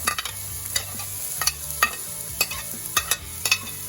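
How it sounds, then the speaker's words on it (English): Cut celery sizzles in a pot during cauliflower soup preparation, with a utensil scraping and tapping the pot in a steady rhythm every half second or so over a constant frying hiss, close and without talk. "Stir it about a minute. Let it cook about a minute. A little bit caramelized."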